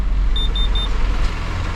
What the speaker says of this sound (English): It let out a real loud beep beep beep.